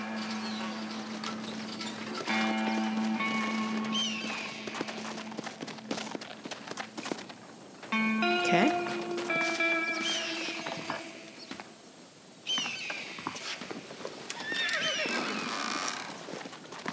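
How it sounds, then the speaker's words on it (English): A horse in the Red Dead Redemption western video game neighs in long whinnies over soft clip-clop hooves and game ambience, the calls recurring several times at moderate distance without speech. "Horse wandering off."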